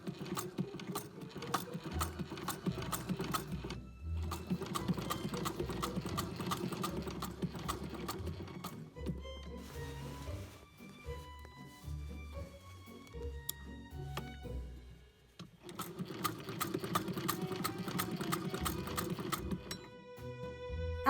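Sewing machine stitching the facing of a Victorian-inspired waistcoat: rapid, steady mechanical clatter in long runs, pausing between bursts and starting again, fairly close and moderately quiet with no talking.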